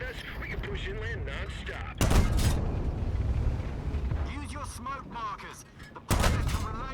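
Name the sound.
gunfire in video game Operation Overlord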